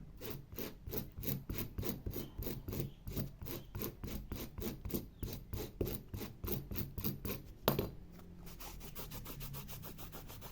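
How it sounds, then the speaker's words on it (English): Steady rhythmic rasping of sanding strokes on stiff cardboard, close and even, stopping near the end to leave a quieter, rougher scraping. "Just needs sanding off a little bit"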